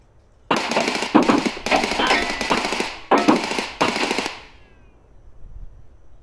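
Rapid automatic gunfire in a video game rattles in several loud, close bursts over about four seconds, with short gaps between them, then cuts off into quiet.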